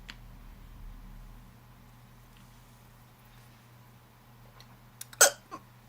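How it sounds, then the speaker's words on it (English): A single sharp hiccup bursts out near the end, followed by a smaller catch of breath, in an otherwise quiet indoor room with a low steady hum. "Oh, hiccups."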